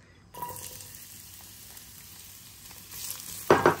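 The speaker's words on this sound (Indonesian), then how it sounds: "kasih panas minyak secukupnya dalam kuali. Lepas itu kasih tumis ini tiga bahan ini guys" Three ingredients sautéing in hot oil in a wok while cooking ikan lomi: a steady close sizzle throughout, swelling into a louder burst of frying near the end, with no talking.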